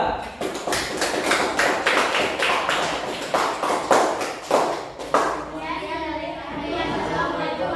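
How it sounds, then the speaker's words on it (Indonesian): Classroom of students clapping for a presenting group: a quick run of sharp, rhythmic claps for about five seconds, then the clapping stops and children's voices and chatter take over. "tepuk tangan untuk kelompok 2"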